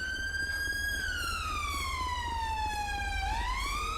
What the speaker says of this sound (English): Let's just get that siren cut here.